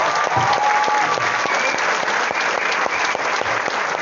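A seminar crowd at a Vestige success talk breaks into louder, fuller applause, a continuous roomful of hands clapping steadily for several seconds with no voices on top.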